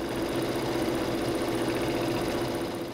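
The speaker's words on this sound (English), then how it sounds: "Embroider the design." An embroidery machine stitches a light, simple design onto a handkerchief held in a hoop, giving a steady, loud, continuous mechanical whir and rapid needle chatter close up, alone without talk.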